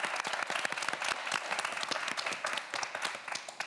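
Dense applause from a studio audience at a televised student quiz show, steady and full throughout with no voices on top.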